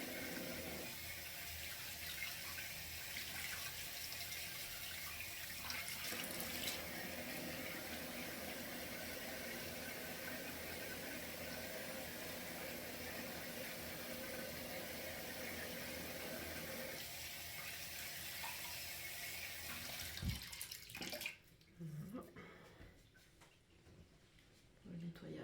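A tap runs steadily into a sink as soap is rinsed off a face, a constant watery rush that breaks off near the end, with faint talking beneath.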